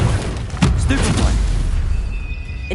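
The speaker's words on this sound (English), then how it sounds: "Stupefy!" Spell combat in Hogwarts Legacy, with a Stupefy cast that lands as a dense boom over a loud, continuous battle rumble, and a voice shouting the spell name at the start.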